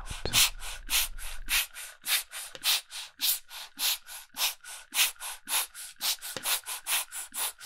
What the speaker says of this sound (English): I'm using this ball pump to just blow all of the metal shavings and particles out